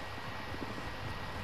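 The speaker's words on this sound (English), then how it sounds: "Enemy UAV overhead" Enemy UAV droning overhead in Call of Duty: Modern Warfare, a steady broadband engine hum that fills the whole moment without letting up.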